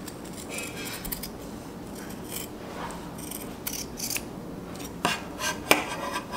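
Scissors snipping through two layers of cotton batting and fabric for a bowl cozy, soft steady blade scraping with sharper closing clicks toward the end, close and fairly quiet.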